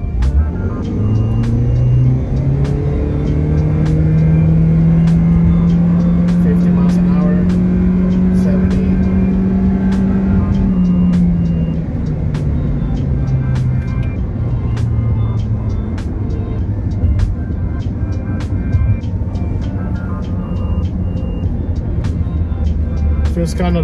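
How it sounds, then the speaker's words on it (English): A 2024 Toyota Prius LE pulls hard away from a complete stop, its engine tone rising steadily and then easing off as speed builds, loud and close inside the cabin, with road and tire noise continuing underneath. "I'm going to floor it just to see how quick it takes off the line"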